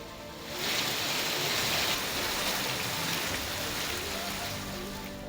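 Heavy monsoon downpour in Sangli, a dense, steady hiss of rain that swells after a brief start and stays constant, with no voices.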